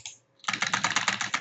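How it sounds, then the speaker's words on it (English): Quick, steady run of keystrokes on a computer keyboard as a decimal number is entered, starting after a brief pause and continuing as close, crisp clicks. "So maybe I'll just type that in."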